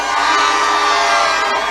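Rally crowd of party supporters in Mumias West, Kenya, cheering loudly in a dense, continuous roar that fills the whole stretch, with no clear individual voices.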